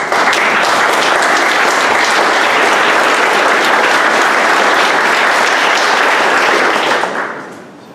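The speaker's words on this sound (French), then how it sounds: "Chapeau et une main d'applaudissement" Dense, steady applause from a crowd at a public information meeting on revitalising the Mont Avalanche ski station, loud and continuous for about seven seconds before tapering off at the end.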